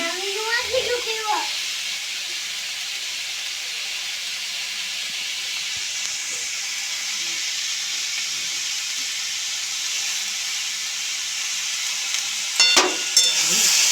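Green peas frying in a pan over a medium flame, a steady hiss with occasional stirring scrapes near the start and end, under no speech.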